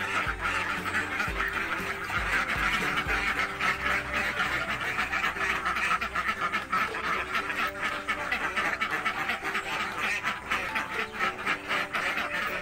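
A dense flock of egg-laying farm ducks quacking continuously and close, many overlapping calls with a steady background hum.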